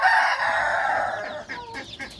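Young Mille Fleur bantam roosters crow loudly up close, followed by a few short clucks from a laying hen.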